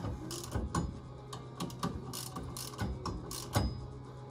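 A ratchet wrench with a 10 mm socket tightens bolts on the front brakes of a 2014 Polaris RZR 900, making repeated close clicking ratchet bursts in an uneven rhythm without talk.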